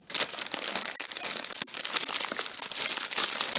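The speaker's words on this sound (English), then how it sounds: "So I'm gonna go ahead and crack this open." The plastic wrapper of a bamboo tissue pack crackles and crinkles continuously up close as it is cut and pulled open, a dense, busy rustle with no talking.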